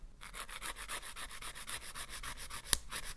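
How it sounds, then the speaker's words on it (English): Coarse 100 grit file rasping back and forth across artificial nail enhancements, a steady rhythmic scratching of quick regular strokes, close and quiet, with one sharper click near the end and no talk. "You are not supposed to be filing back and forth with nails, but these are artificial enhancements"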